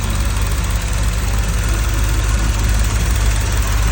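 A car engine idles steadily on its first cold start after restoration, with the exhaust running hot and residual paint and cleaning chemicals smoking off. A close, continuous low rumble holds evenly throughout, with no voices.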